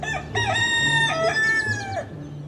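A male jungle fowl crows its mating call, two loud close drawn-out cock-a-doodle-doo calls with rising and falling notes, clear and alone with no other sounds.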